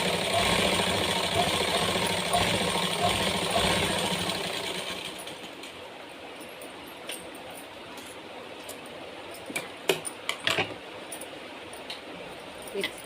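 A sewing machine stitches blouse fabric with lining, a steady mechanical whir through the first half that fades to quieter handling noises and a few sharp clicks near the end.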